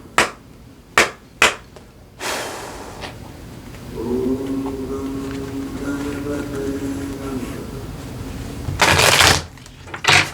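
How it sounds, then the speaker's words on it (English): Tarot card deck being shuffled by hand, with a few sharp riffle snaps at the start, a longer steady shuffling stretch in the middle and a final burst of riffles near the end, close and fairly loud. "I'm just going to shuffle."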